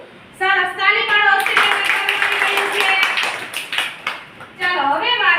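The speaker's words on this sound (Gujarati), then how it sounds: "તાળી પાડો." Young children in a classroom counting game clap their hands together in a burst of quick, close claps lasting a few seconds, with a voice speaking before and after.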